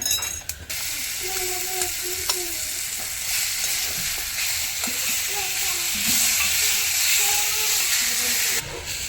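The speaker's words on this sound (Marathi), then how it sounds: "कढाईमध्ये तेल गरम झालेलं आहे त्यामध्ये हे मसाले घातलेले आहे" Spices sizzle in hot oil in a kadhai, a continuous close hiss and crackle with occasional stirring scrapes of a spoon against the pan.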